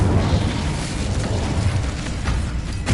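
A fire spell cast in the Hogwarts Legacy video game bursts out as a loud, continuous roaring rumble, heavy and rough throughout, with no talking.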